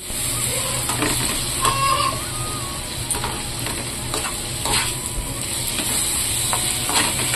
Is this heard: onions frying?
yes